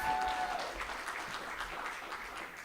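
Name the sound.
applause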